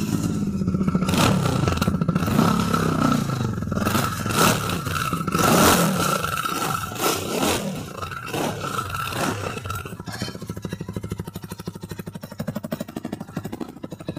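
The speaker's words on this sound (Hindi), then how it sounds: "चलिए इसका साउंड आपको एक बार सुनाते हैं, इसका एग्जॉस्ट नोट तो सब पागल है भाई" Royal Enfield Super Meteor 650 motorcycle revving at a showroom in Barasat, Kolkata, with a loud, close, steady exhaust roar that rises and falls with throttle blips and settles into a lumpy idle, no talk.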